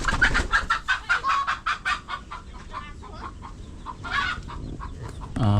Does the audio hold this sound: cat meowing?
no